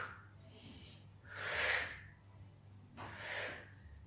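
Two strong breaths, an exhale and then a later one, from a person doing butterfly crunches in an abdominal workout circuit, close and fairly loud over a low background hum.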